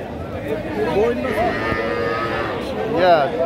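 A calf lowing repeatedly at a weekly livestock market in Puthia, its moos rising over a steady crowd murmur and faint bargaining voices, with a louder call near the end.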